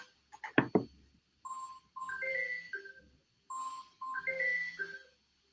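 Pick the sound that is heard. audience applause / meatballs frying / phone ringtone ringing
phone ringtone ringing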